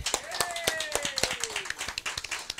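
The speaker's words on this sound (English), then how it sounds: "Clap it up for that." Scattered hand claps ring out in an uneven, sparse rhythm, a small group applauding briefly at a high school athletes' college commitment event while a whistle-like tone slides underneath.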